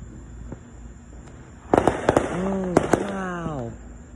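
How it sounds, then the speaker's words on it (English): Fourth of July fireworks bursting outdoors, a few sharp pops and crackles followed by whistling tones, heard under excited talking. "Those are beautiful fireworks."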